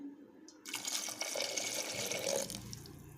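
One and a half tumblers of water splash into a cooking pot for bottle gourd rice in a steady, close pour lasting about two seconds, then tapering off.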